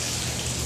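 Rainwater leaking through the ceiling of a wedding hall during a wedding party, a brief, dense, steady splashing and pattering close by.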